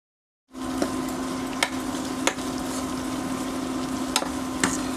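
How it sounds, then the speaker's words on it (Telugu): Onion pieces with a ginger, garlic and coriander paste frying in a pan, a steady close sizzle that starts abruptly and runs on with a few sharp stirring clicks, no talking. "ఇప్పుడు వీటిని పచ్చి వాసన పోయే వరకు బాగా వేగనివ్వాలి."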